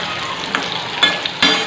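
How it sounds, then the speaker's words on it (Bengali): Potatoes fry in a pan with a steady crackling sizzle, broken by a few sharp clinks and scrapes of stirring, close and moderately loud with no talking. "দেখো আলুটা ভাজা চলছে"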